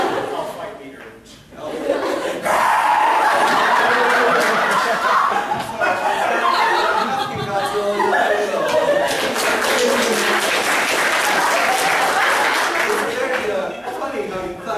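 At a high school improv comedy night, an audience chuckles and laughs while a stretch of quick clapping rises midway, all layered under ongoing talk from the stage.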